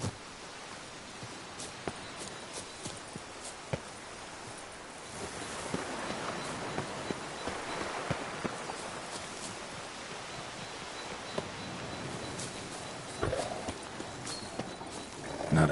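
Roach the horse galloping in The Witcher 3 video game, rhythmic hoofbeats thudding over ground with a rustling outdoor ambience, moderately close and steady throughout.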